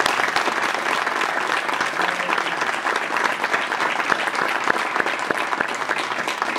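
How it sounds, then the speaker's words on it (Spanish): Dense, sustained applause from an audience at a national award ceremony for music promotion, many hands clapping steadily and evenly throughout, fairly loud and without voices on top. "Yo creo que esto se merece un aplauso."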